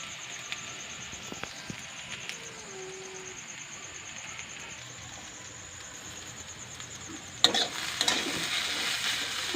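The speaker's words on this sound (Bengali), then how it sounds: "আলু পেঁয়াজ একসঙ্গে দিয়ে দিয়েছিলাম, ভাজা হয়ে গেছে" Potatoes and onions fry together in a wok for homemade chow mein, giving a soft, steady sizzle. A louder stirring clatter breaks in near the end.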